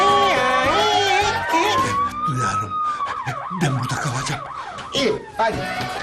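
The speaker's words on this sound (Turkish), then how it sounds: "Osman Aga polis sirenlerini duyuyorum bak." A police siren wails up and down close by, its tone sweeping slowly, with voices talking over it and clattering noises around.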